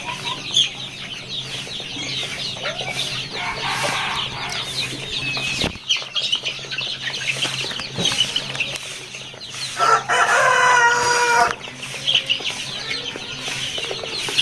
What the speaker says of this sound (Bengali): টাইগার মোরগ দেখতে পাচ্ছেন